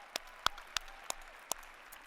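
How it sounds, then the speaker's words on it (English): At a university winter commencement ceremony, a handful of sparse, isolated hand claps sound faintly and evenly spaced over a quiet background. "That's worth applause."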